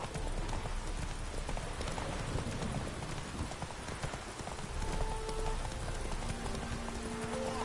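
Hooves of Roach, a horse in a video game, clip-clop in a steady galloping rhythm, close and loud throughout over a continuous background wash.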